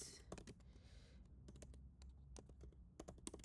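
Typing on a computer keyboard to fill in a property rental listing: a steady run of close, quiet key taps in short irregular bursts, with no talking.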